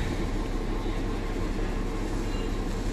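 Narrow gauge train running between Bilimora and Waghai in Gujarat, a continuous, loud rumbling roar with steady low-end clatter and no pauses.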